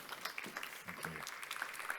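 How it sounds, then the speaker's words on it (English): A seminar audience at a steel technology event gives faint, scattered applause for a speaker being introduced, with a brief voice murmuring underneath. "A big round of applause to him, please."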